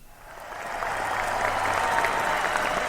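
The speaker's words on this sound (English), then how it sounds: "An astounding round of applause for them" Round of applause from a live audience at a ringmaster-hosted sports talk event, swelling quickly into steady, dense clapping that holds at full strength.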